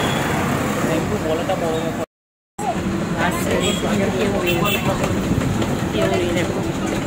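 A tram rolls through Kolkata with a continuous low rumble and rattle, broken by a brief gap, while passengers talk loudly over it throughout.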